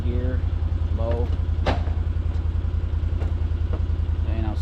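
A vehicle engine at an off-grid cabin runs steadily in low gear with the rear diff lock engaged, a loud continuous low rumble. A voice talks over it now and then.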